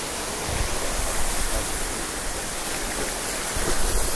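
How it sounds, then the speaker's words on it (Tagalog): The Lalangawan River in Cavinti, Laguna flows with a constant, dense rushing hiss of moving water, close and unbroken, with no voices. "Dito kasi sa Lalangawan River, umulan man o summer, hindi siya naubusan ng tubig."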